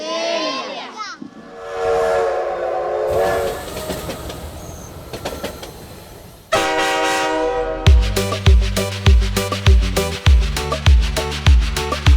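A train sound effect with a horn plays at a church children's Bible school dance event: at first a long horn-like tone, then a strong rhythmic clickety-clack of wheels that runs loud and steady to the end.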